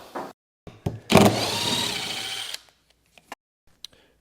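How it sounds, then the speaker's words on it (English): A laminate trimmer routing excess off a guitar top, a loud close whine that spins up, runs about a second and a half and then stops, followed by a few quiet knocks and handling taps. "the next thing we're going to do is set up our laminate trimmer, and we're going to take all this excess off"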